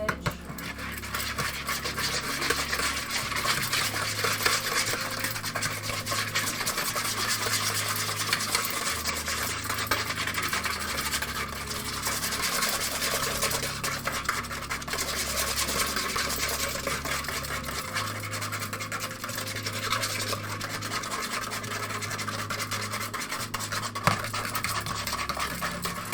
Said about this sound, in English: Whisk that bitch.